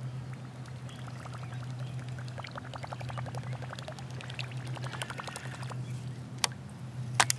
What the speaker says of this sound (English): he makes some pretty good plopping commotion